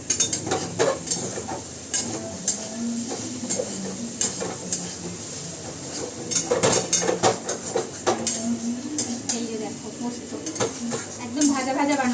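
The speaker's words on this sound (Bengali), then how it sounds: "পিঁয়াজ দিয়েছি জানো তো পিঁয়াজ আলু আর পোস্ত বেশ ভাজা ভাজাই যাবে" Sliced onion, potato and poppy seed fry in a pan with repeated scraping stirs and clinks of a utensil, over a steady sizzle, while someone talks throughout.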